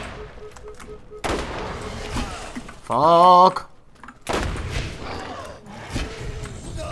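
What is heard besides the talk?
gunfire from a gun in the video game Borderlands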